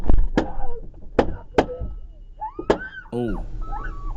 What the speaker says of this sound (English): those were the shots